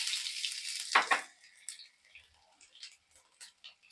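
Urad dal, chana dal, cumin and crushed ginger frying in hot oil, a bright hissing sizzle that surges briefly at the start and then fades into scattered faint crackles and pops.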